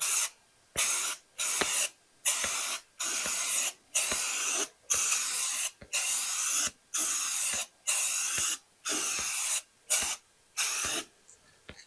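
Repeated bursts of aerosol rust-treatment spray hiss in short, regular pulses with brief gaps, close and steady, about a dozen sprays in a row, under a 1968 Ford Mustang.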